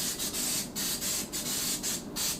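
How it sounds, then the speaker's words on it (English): Light bursts of cooking spray misted onto a non-stick cake pan, a series of soft, quick hisses in an irregular rhythm, close but fairly quiet. "I have my pan that I'm just going to spray lightly"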